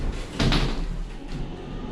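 Doors of a 1991 Montgomery hydraulic mall elevator slide shut, ending in a short, dull thud set against a continuous low hum of machinery and background noise.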